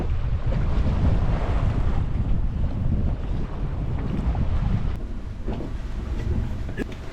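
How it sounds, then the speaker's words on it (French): Steep, choppy sea slaps around a sailboat under way on a solo Atlantic crossing, with a constant rushing wash and wind buffeting the microphone. "Avec le courant, ça lève un clapot qui est assez raide en fait."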